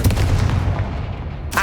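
A Confringo spell explosion in Hogwarts Legacy, a single heavy booming blast with a low rumble that decays over about a second, followed by a short sharp burst.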